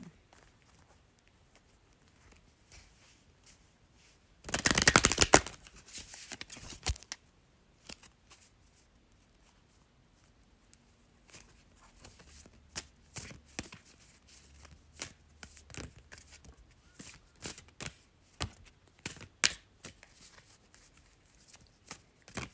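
A tarot deck is shuffled in a sharp, loud riffle near the start. Softer, scattered card flicks and taps follow later, close and quiet, with no talk.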